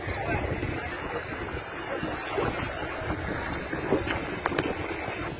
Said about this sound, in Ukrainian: Ну, вітер трохи здуває